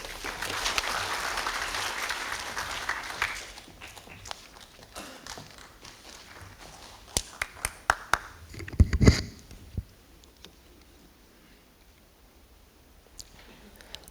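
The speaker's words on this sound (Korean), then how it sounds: "큰 박수 부탁드립니다." Audience applause at a Daechi Mido apartment reconstruction residents' meeting in Daechi-dong, a dense burst of clapping for about three seconds that fades into scattered taps, thumps and shuffling in the hall.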